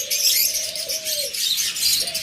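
Fischer's lovebirds at a bird farm give dense, high twittering chirps that run on without pause, close and fairly loud, with a few steadier tonal calls cutting through the chatter.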